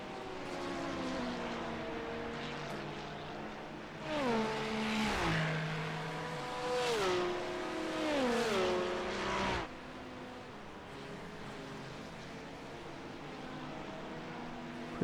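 Racing-game GT3 cars, a Porsche and a Ferrari among them, roar through an IMSA race with close engine notes rising and falling as they shift and pass, louder in the middle stretch, then settling to a steady drone.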